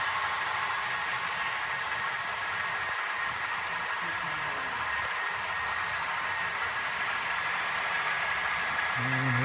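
A running train, heard as a steady low rumble with constant broadband noise and a faint tonal whine, continuous and fairly quiet throughout, with no distinct horn or bell.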